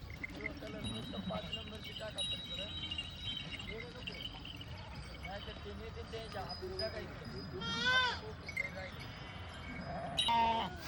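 Sheep bleat in a morning flock during a pilgrimage procession near Khed Shivapur, Pune, with a few clear wavering calls, the loudest near the end, over steady background murmur and people talking.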